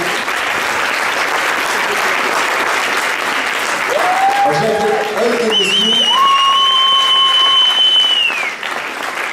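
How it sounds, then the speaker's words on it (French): Audience applause breaks out at a French business talk as a guest is invited on stage, broadband clapping sustained for about nine seconds with a few whistles and cheers rising over it midway. "Je vais applaudir."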